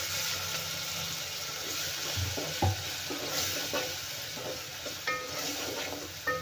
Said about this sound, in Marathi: आपल्याला छान परतून घ्यायचा आहे, म्हणजे तो नरम झाला पाहिजे टोमॅटो पण